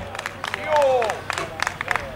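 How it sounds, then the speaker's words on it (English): Scattered clapping and whistles from an audience at a cannabis-themed stage show come in short bursts, with a rising whistle near the middle and a thinner patter of claps toward the end. "Let me hear a round of applause"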